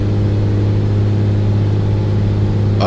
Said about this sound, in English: the engine of this aircraft sounds amazing. And this is even the turbocharged one.